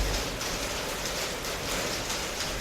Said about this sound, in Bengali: বৃষ্টি শুরু হয়েছে, এত বৃষ্টির মধ্যে পা চালিয়ে হাঁটা বড় মুশকিল।